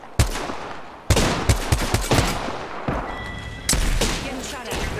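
Gunfire in Apex Legends: sharp, loud, repeated shots in bursts and rapid volleys, some close and punchy, others quicker automatic fire, with short pauses between.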